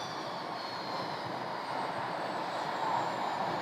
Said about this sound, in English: we just had another arrival. This is a larger aircraft.